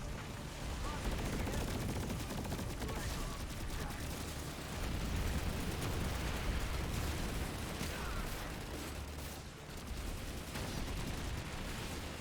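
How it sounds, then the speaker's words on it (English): Dense, continuous gunfire from the video game Planetside roars without a break for the full length, as overlapping rapid bursts and blasts form a thick wall of sound. "So many bullets."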